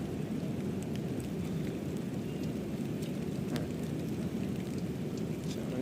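Heavy rain falls steadily near a fishing spot, a dense, even roar of drops with no pauses throughout.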